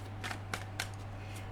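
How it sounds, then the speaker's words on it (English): Tarot cards being shuffled by hand, three soft quick riffling bursts close by over a faint steady hum, with no talking. "Okay, just going to give it a good shuffle."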